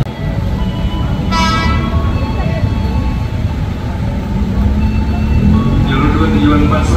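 Horn of a KRL Commuter Line train arriving at Cawang station in Jakarta, two short toots sounding over steady low rumble of the approaching train, with a platform announcement voice running underneath.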